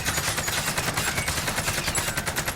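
Rapid sustained automatic AK-47 fire from Call of Duty Warzone, the Cold War AK variant shooting at long range, with loud evenly spaced shots rattling continuously without pause and no talk.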